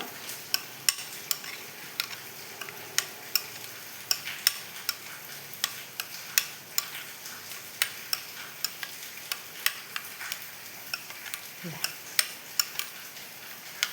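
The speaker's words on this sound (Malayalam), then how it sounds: "ഇനി നമ്മളെ സൂപ്പ് നല്ല അടിപൊളിയായിട്ട് മിക്സ് ചെയ്ത് എടുക്കുക." Beetroot soup with pepper powder stirred in a pot: a spoon knocks and scrapes against the pot in a steady rhythm of light clinks over a soft simmering hiss, with no talking.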